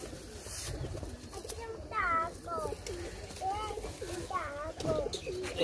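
Rampuri Teddy pigeons cooing in a loft in Sialkot, a few close, rolling coos repeated in short bursts over steady background noise, with someone talking intermittently.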